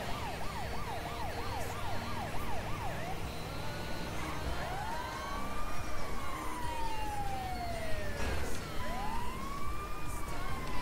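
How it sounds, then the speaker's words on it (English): Video game emergency vehicle sirens wail steadily, starting with a fast yelping warble and then changing to long rising and falling sweeps as more than one siren overlaps over a low traffic rumble. "Siren's behind you."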